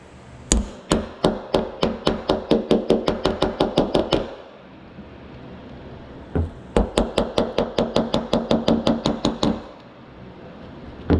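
Light hammer taps on sheet metal while small dents are worked out, two quick, evenly spaced runs of about a dozen sharp close knocks each, separated by a pause.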